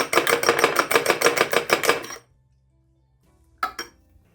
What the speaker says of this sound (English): Beat the eggs until they are fluffy and well mixed.